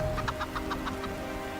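Chickens clucking in a quick run of about seven short calls over low background rumble, fairly near, then trailing off into quiet noise.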